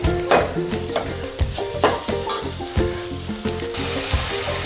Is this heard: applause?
no